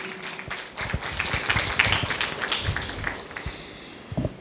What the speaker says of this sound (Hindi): ज़ोरदार तालियाँ बजाएं।